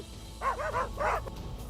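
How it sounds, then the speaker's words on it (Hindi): Stray dogs in a residential neighbourhood of Chikhli More Basti, Pimpri Chinchwad, Pune, give a few sharp barks in two short bursts, moderately close over background noise. "कुछ देर बाद कुत्ते भाग गए, लेकिन थोड़ी देर में फिर लौटे"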